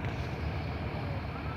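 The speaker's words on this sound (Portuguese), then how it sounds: "o motor da outra balsa de lá que tá enganchado, tá funcionando um motorzão lá" A ferry's diesel engine rumbles steadily on the São Francisco river at night, a dense, continuous low drone with wind-like hiss layered over it and no breaks.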